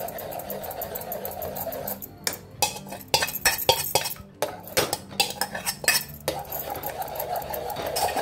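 Soaked sabudana being stirred in a pot for papad, with a spoon scraping and clinking against the metal in irregular bursts, close and fairly loud over a steady background hum.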